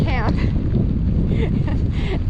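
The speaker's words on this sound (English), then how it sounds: "it's really windy" Wind gusting at a lakeside backpacking campsite in Desolation Wilderness after a storm, buffeting the microphone with loud low rumbling, while a person talks over it.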